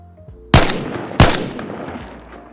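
Two loud, close AK-74 shots ring out in the video game DayZ, about two-thirds of a second apart, each a sharp crack followed by a decaying tail.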